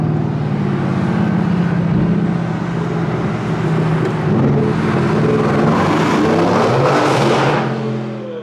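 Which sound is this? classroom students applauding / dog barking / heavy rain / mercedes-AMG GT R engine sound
mercedes-AMG GT R engine sound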